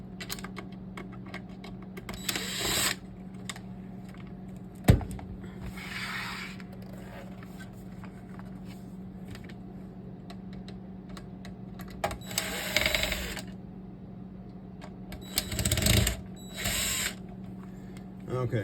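Screws being removed from the dashboard of a 2012 Toyota during a touch-screen replacement, with short bursts of a small power driver whirring separated by quiet stretches and an occasional click or clunk.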